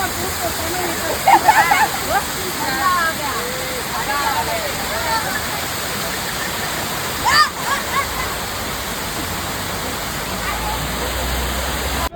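A waterfall at Malshej Ghat roars as a steady, loud, unbroken rush of water that fills the whole stretch, with faint brief voices or calls surfacing a couple of times.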